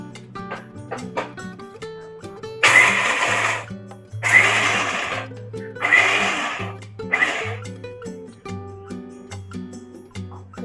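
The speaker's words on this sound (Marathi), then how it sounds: "आता मी मिक्सर मध्ये बारीक करून घेते. एकदम बारीक नाही करायचंय, जाडसरच ठेवायचंय." A mixer grinder coarsely grinding cooled roasted makhana (fox nuts) runs in four loud whirring bursts separated by brief pauses, with a softer background hum and tones between pulses.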